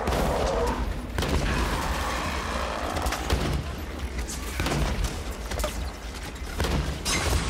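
Dense, rapid bursts of gunfire and mechanical clatter in Halo 5: Guardians, loud and continuous, with a voice talking intermittently in German over the shooting.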